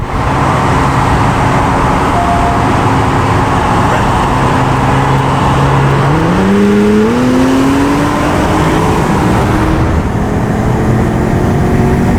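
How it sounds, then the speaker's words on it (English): A Porsche Panamera Turbo races a new Acura NSX, with loud, close engine roar and rising whines as the cars accelerate and shift, over constant road noise and no talking. "here is my Porsche Panamera Turbo versus a brand new Acura NSX"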